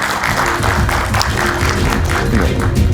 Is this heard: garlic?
no